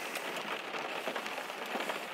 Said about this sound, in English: we're going to wait for this rain just to die down a little